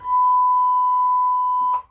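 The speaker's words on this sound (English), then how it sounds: "You hear that beep?" A single sustained electronic beep, steady and loud, holds for under two seconds before cutting off, heard in a cabin aboard the cruise ship MSC Meraviglia.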